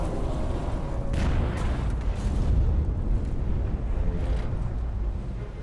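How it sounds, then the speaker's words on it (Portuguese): A torpedo strikes a ship at sea, heard as a heavy, sustained rumbling explosion with deep booming surges that roll on loudly for several seconds, with no voices over it. "Nesse momento, o torpedo do Hank atinge o alvo."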